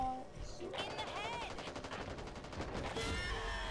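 Rapid gunfire in the zombie shooter Back 4 Blood, a dense burst of shots running nearly the whole time alongside game effects, with a voice talking over part of it.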